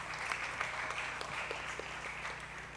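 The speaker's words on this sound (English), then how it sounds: "So let's hear a round of applause for the amazing Lexan Fletcher" Audience applause at a junior school graduation ceremony for the class of 2024, a steady wash of many hands clapping at moderate volume with a low hum underneath and no voices.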